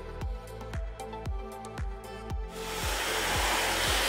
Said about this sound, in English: with the heat of the hairdryer, start to create a curl.